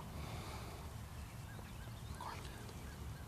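A wild turkey gobbler calls from a distant field in New York spring woods, a faint, brief gobble set against steady low outdoor background noise, with no talking.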